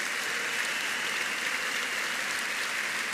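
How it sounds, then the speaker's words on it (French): Dense, steady applause from a church congregation at a Shiloh 2019 service, a continuous hiss of many hands clapping together for about three seconds with no voices on top and no breaks. "Give the Lord the biggest clap"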